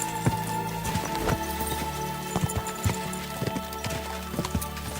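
Horse hooves clip-clop in a steady, rhythmic trot while riding through the countryside in Kingdom Come Deliverance 2, set against an ambient game soundscape with faint background tones.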